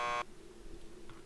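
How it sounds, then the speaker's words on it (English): A door buzzer sounds in the video game Max Payne 2: The Fall of Max Payne, a short harsh electric buzz that cuts off quickly, followed by quiet room tone. "Just press the buzzer by the door."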